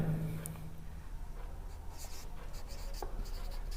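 A pen writing a geometry construction by hand on paper: soft, scratchy strokes in short intermittent bursts, faint and close over a steady background hiss, with no speech.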